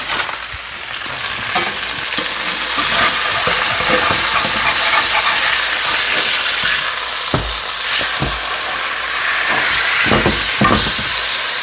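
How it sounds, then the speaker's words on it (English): Beef chuck sears in a hot pan, giving a loud, steady crackling sizzle that runs throughout with occasional pops and spatters, close and alone without talk. "So let's go ahead and flip this beef chuck."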